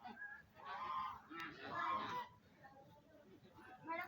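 Swans give a few loud nasal honks in bursts, with people talking at a quiet level around them.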